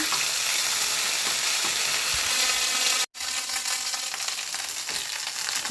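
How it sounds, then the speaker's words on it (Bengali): Ginger fries in hot oil with a constant, close sizzle, mixed with scraping stirs and light crackles, interrupted by one brief cut partway through. "আদাটা একটু ভাজা ভাজা করবো"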